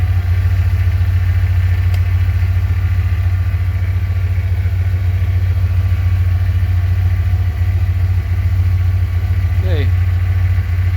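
A Ford F150 engine that has sat unused for a long time idles close by with a steady, loud low rumble and an uneven, stumbling miss. Nobody talks over it.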